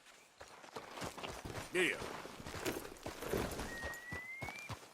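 Horse hooves clip-clop at a walking pace in the Red Dead Redemption 2 video game, steady and fairly close, running under conversation between riders with a brief reply spoken.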